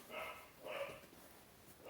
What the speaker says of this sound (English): Can you hear my dog? I can hear my dog.